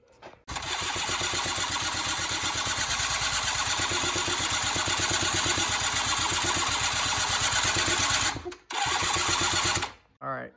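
A Polaris Scrambler 90 ATV engine cranks and sputters as it struggles to start, a fast loud mechanical chatter running for about eight seconds, cutting out briefly, then catching again before dying away.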